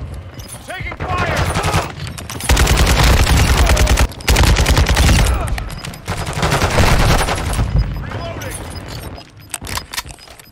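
Rapid automatic gunfire in Modern Warfare 2 (2022) with a Kastov 762 rifle, long loud bursts of rattling shots broken by short pauses and trailing into a few scattered rounds.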